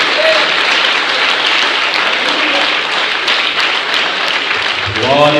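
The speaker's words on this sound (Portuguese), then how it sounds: "Aplauda o Senhor." A church congregation claps loudly and continuously during a sermon, a dense uniform roar of applause, with a voice breaking in briefly at the start and again as it ends.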